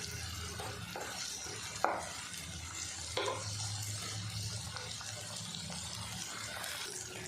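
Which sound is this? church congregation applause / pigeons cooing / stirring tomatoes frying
stirring tomatoes frying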